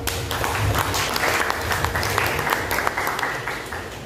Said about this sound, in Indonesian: Tepuk tangan Pak